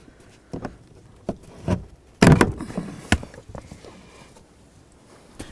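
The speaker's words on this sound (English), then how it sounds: "Let's go ahead and start popping those out so we can get this insulation out of the way." Plastic push tabs are pried loose from the under-dash insulation of a 2007-12 Dodge Caliber, giving several sharp plastic pops and clicks with one louder, rattling snap partway through, close up and without talk.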